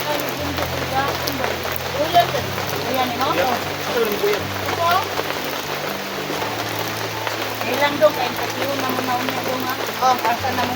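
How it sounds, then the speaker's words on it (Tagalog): Steady rain patters on a surface somewhere in the mountain countryside, a dense continuous hiss that runs the whole time while people talk over it. "Ulan din."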